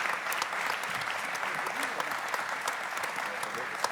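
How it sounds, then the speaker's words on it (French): An audience applauds guests being introduced at a press conference, a continuous wash of many hands clapping that holds steady throughout, with faint crowd murmur underneath. "Vous pouvez les applaudir, hein."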